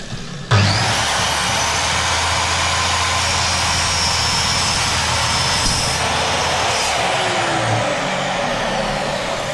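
A drop saw fitted with a wood blade cuts slowly through aluminium window trim, a loud, steady, high roar that starts suddenly and carries on without a break.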